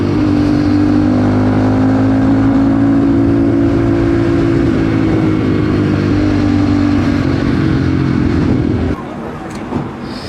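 A motorcycle engine runs loud and close, revving steadily through third into higher gears on a road ride before a sprocket and chain swap, its steady drone easing off near the end with faint speech.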